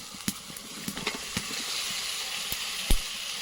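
Meat going into a pan of sizzling, well-fried spice paste for a village-style meat curry, steady hiss and frying crackle with scattered sharp spits and pops, close and moderately loud, no talk.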